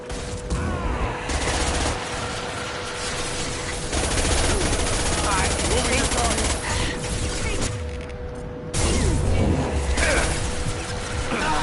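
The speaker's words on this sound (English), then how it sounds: "Taking heavy fire!" Gunfire in the video game Mass Effect 2, with dense bursts of rapid automatic shots and mechanical rattles in loud waves over a sustained combat din, briefly dropping away before surging back.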